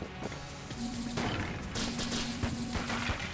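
Skeleton enemies in Enter the Gungeon fire quick gun bursts, a rapid clatter of close, loud shots repeating in short volleys over busy game noise.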